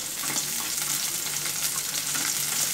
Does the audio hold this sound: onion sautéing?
yes